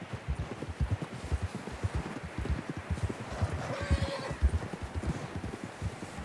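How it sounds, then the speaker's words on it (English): Steady hoofbeats thud in a quick rhythm throughout, and a horse whinnies once midway in the video game Red Dead Redemption 2, all moderately loud with no talking. "John was riding that horse when we left Blackwater."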